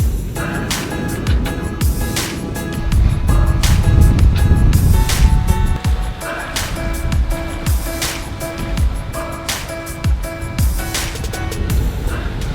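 A sailing boat moves through the water off Croatia, with a steady rush and slap of water against the hull, wind buffeting and occasional knocks and creaks, loud and close throughout.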